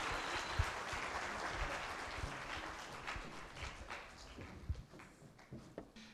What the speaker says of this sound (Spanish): démosle un caluroso aplauso a nuestro ponente